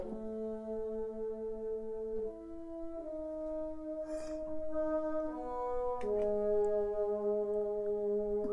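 Sustained bassoon line from the Berlin Woodwinds sample library, held notes stepping slowly between pitches in a mournful harmonic support role, steady and moderately loud with no voices.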